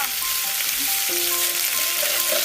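Biryani cooking in a large pot outdoors at a beach while being stirred: dense, continuous sizzling and bubbling with faint scraping tones, steady and moderately loud with no talk.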